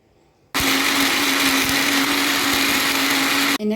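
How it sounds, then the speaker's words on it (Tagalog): A blender switches on suddenly and runs at a loud, steady whirr blending dates and almond milk for about three seconds, then cuts off abruptly. "unahin na po natin yung ating dates na i-blend"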